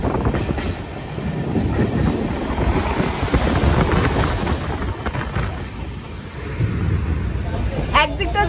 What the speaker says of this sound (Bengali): নিচ দিয়ে ব্যারেজের জল ছাড়ছে